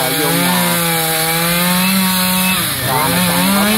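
Chainsaw cutting into a coconut tree trunk near a house, one loud continuous buzzing whine close by that dips briefly as the bar bites and then revs back up, with no voices.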